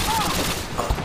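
Rapid gunfire bursts in a capture-the-flag match on the Favela map, a dense fusillade crackling across the whole moment, with louder thumps near the end.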